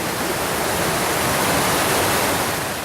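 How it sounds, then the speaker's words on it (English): Water from the 20-mile creek cascade pours down a steep drop in a continuous, loud, hissing rush, steady and close, with no voices. "I'm at the 20-mile creek cascade."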